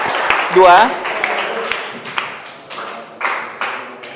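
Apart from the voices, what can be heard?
audience applause for group 2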